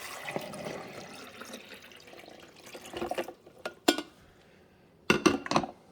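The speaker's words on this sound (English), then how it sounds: "So now let's pour the water in." Water pours into the reservoir of a Cuisinart 12-cup black stainless coffee maker, a soft steady liquid rush that ends with a few sharp plastic knocks and clatters, close by and without speech.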